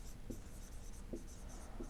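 Soft scratchy strokes of writing on a surface during a classroom lecture on soil shrinkage limit, faint and steady with a few brief taps, no talk.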